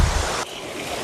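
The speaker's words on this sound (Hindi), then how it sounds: "ये देखो यहाँ से जा रहा है झरना नीचे" A mountain stream waterfall, called a gadera, rushes down over big boulders as a steady, loud broadband roar, briefly louder at the start and then slightly softer, with no talking.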